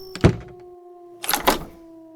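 A radio-drama sound effect of a door being shut and locked: one solid thud, a pause, then a pair of sharper mechanical clacks from the lock, close and clean against a faint steady hum.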